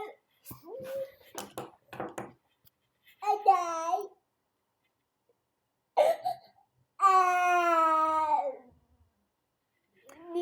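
A small child cries in two wailing bursts, each a rising and falling sob, close and fairly loud, separated by silence and a few short vocal sounds and coughs.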